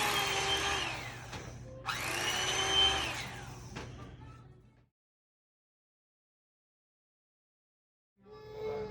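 An electric carving knife slicing through a loaf of bread for a French toast bake gives a steady, loud motor whine in two bursts of a few seconds each, cutting off abruptly into silence before a brief restart at the end.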